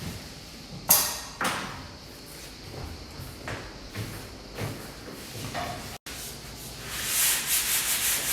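A Parkside orbital sander works over a repaired interior wall before painting, giving a steady close rubbing hiss with a few sharp knocks and scrapes, growing brighter and louder near the end, with no talk.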